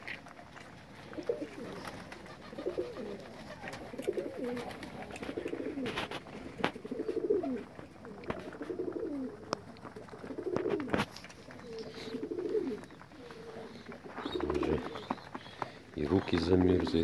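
Pigeons coo in low, rolling phrases, repeated close by, with scattered clicks and footsteps and a voice talking at times in Russian.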